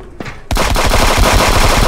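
Rapid pistol fire in a violent multiplayer video game, a fast string of close, loud shots repeating steadily for over a second after a brief quieter moment, with no talking.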